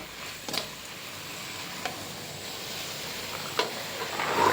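A utensil stirs Maggi stock cubes in a frying pan, with soft, continuous sizzling and a few distinct scraping strokes against the pan, quiet and close.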